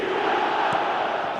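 A stadium crowd in an eFootball match lets out a steady, moderately loud roar of reaction that holds evenly throughout.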